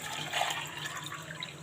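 Two cups of water splash and gush steadily into a cooking pot, a continuous close-up liquid rush that swells briefly before settling.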